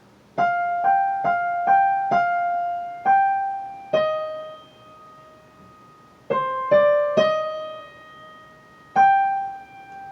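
A slow piano melody from Khachaturian's Andantino, single sustained notes struck one at a time with pauses, some held longer and left to ring out.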